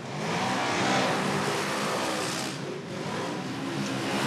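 Off-road racing buggies are driven hard at a dirt track, engines screaming in a loud, sustained revving roar with a brief dip before surging again.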